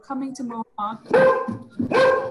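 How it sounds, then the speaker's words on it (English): A dog barks a few times in short, close, fairly loud bursts, overlapping with a person speaking nearby. "I thought that was my dog for a second"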